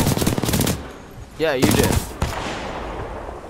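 Automatic weapon fire in the Titanfall 2 campaign, with rapid loud bursts near the start and again midway, then a single sharp shot, under brief speech.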